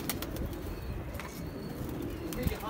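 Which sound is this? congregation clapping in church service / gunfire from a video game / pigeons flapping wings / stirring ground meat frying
pigeons flapping wings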